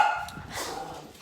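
A dog barks indoors in a couple of short, fairly close yaps with a faint whimpering tone, heard alone without speech.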